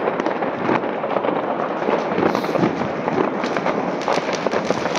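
Firecrackers and fireworks crackle nonstop on New Year's Eve in Worms, Germany, a dense, even rattle of popping from nearby and farther off, with no voices heard.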